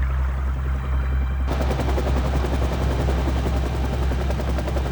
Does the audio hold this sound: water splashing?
no